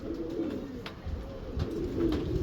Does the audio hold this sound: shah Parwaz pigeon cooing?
yes